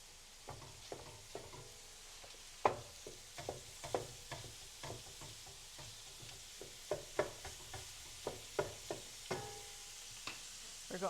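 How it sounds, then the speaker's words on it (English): Ground beef frying in a pan, a soft steady sizzle under repeated sharp clicks and scrapes as a utensil breaks the meat up, fairly quiet and close, no talk. "we're going to put in our ground beef, and we're going to break this up."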